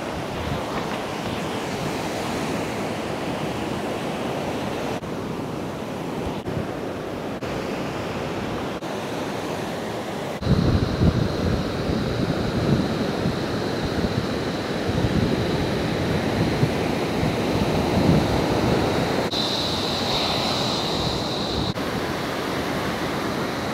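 Ocean surf at Mirissa beach, Sri Lanka, washes in a steady roar with wind rushing across the microphone, growing fuller and louder midway, with no voices present.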